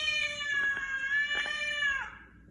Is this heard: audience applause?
no